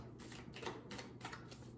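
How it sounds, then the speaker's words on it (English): Fast shuffling of tarot cards during a reading, a string of quick papery riffling bursts in steady rhythm, close and fairly soft with no talk over it. "Excuse the fast shuffling too"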